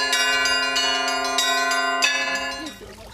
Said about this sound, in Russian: Здесь прихожане не только насладились звоном колоколов, но и прикоснулись к прекрасному.